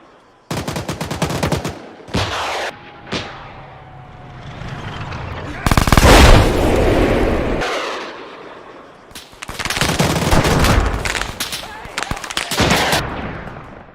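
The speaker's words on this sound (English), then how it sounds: "The machine guns roar, sending bullets tearing through the tank line" Bursts of rapid automatic gunfire crackle in short volleys, with sustained rumbling stretches between them, loud and close.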